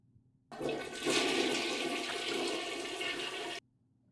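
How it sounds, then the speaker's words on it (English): A toilet flushes in one continuous rushing surge of water lasting about three seconds, loud and close, with no voices, then cuts off abruptly into quiet. "Kind of miss the flush noise"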